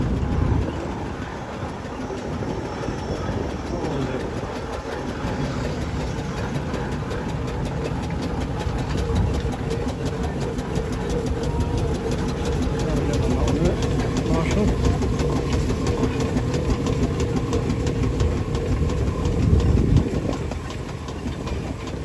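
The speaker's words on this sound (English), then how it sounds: "We've got the Brown and May engine from the Russell stable just down the road at Bolingbroke" Brown and May steam engine rolling past in a steam rally parade, a steady mechanical chuffing and clanking rumble with a rhythmic rattle, heard amid crowd noise and a commentator talking over it.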